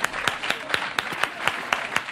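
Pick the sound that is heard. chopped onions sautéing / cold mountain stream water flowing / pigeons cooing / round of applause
round of applause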